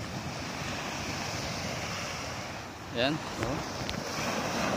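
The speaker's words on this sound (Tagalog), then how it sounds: "Naririnig niyo ba yung alon ng ano? Alon ng dagat." Steady broadband wash of sea waves with wind noise throughout, and a short voice cutting in briefly near the end.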